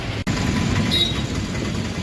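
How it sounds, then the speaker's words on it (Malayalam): A train rumbles through Kottayam railway station, a continuous loud low roar of rolling wagons with a faint wheel squeal. "നമ്മളിതാ കോട്ടയം റെയിൽവേ സ്റ്റേഷനിലെത്തി"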